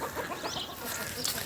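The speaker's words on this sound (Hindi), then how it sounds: "एक मुर्गा ऊपर चढ़ा हुआ है।" A rooster clucks in short, scattered calls at a middle distance, set against a steady outdoor background hum with no talk.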